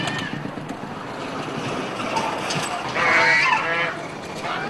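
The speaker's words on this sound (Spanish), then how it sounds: "aproveché para hacer algunas tomas a una manada de gansos." A flock of geese honks by a small stream at the entrance to a village in Ruili, with overlapping calls over a busy outdoor background and a louder burst of honking near the end.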